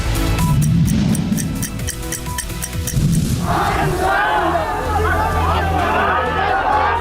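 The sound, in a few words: crowd chanting protest slogans at Nitish Kumar rally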